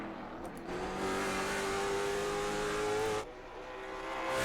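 A late model stock car roars around an oval at Hickory on a qualifying lap, a loud sustained engine note that swells, holds steady and then drops away as it passes.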